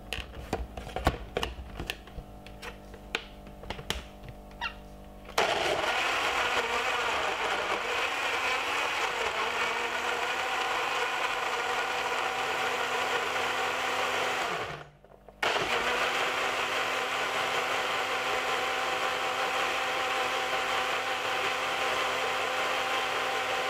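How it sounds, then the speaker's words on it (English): A blender whirs loudly and continuously while blending broccoli juice, with a brief dip and pause before the motor surges back, after some rattling clatter at the start. "Now what we're gonna do is blend it for about"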